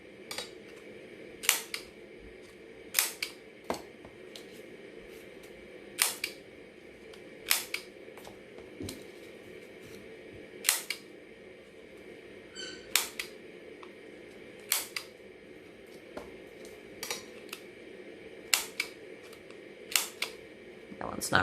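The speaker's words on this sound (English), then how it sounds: "On the outside of all of these, I want to use your corner rounder to just round those sides." Handheld corner rounder punch trimming the corners of a paper stack, sharp snapping clicks repeating every second or two across the stretch, over a faint room hum.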